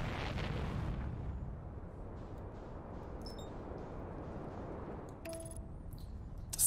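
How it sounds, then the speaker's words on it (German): In Outer Wilds: Echoes of the Eye, an explosion in a hidden canyon blasts a large hole in the side of the alien vessel, opening with a deep booming rumble that fades into a low sustained roar, with faint chimes near the end. "In der verborgenen Schlucht erzeugte eine Explosion, die ein großes Loch in die Seite des Fremdlings reißt."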